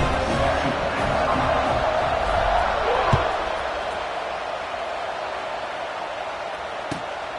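Football stadium crowd roaring steadily during a kickoff, a broad sustained wash of cheering with a couple of sharp thuds, under a commentator's voice.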